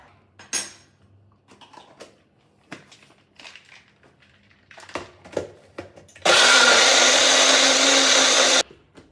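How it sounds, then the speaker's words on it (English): A blender whirs loudly and steadily for about two seconds, blending a smoothie made with peanut butter powder. It follows a series of sharp clinks and knocks of a spoon and utensils. "then we're going to blend it up"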